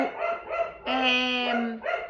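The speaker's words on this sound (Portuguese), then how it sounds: "a Amora resolveu latir." A dog barks several times indoors, with short yaps around one longer, drawn-out howling bark, loud and close with no talk over it.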